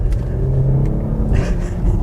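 A big single-turbo SUV engine rumbles loudly and steadily under acceleration, a deep continuous drone close to the microphone with a brief rise near the end.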